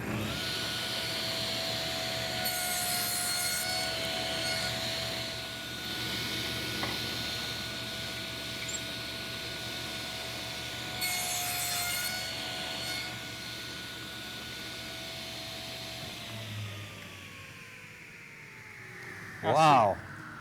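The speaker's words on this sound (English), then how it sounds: "But then to remove the waist stock, I'll use this tenon cutting jig." A table saw with its blade raised cuts a wood tenon using a tenon cutting jig, producing a steady loud whine and hum that holds for most of the span, then winds down, with a person speaking briefly.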